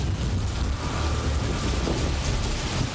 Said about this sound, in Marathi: भिवंडीमध्ये विजांच्या कडकडाटासह मुसळधार पावसाला सुरुवात झाली।